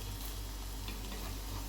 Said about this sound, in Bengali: আমি তেলে এই কোপ্তাগুলো ছেড়ে দিয়েছি, গোল্ডেন করে ভেজে নেব দুদিকে